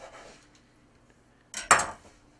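A knife slices scallions thin on a cutting board, giving a couple of sharp, close knocks against the board after a quiet stretch, with no talking.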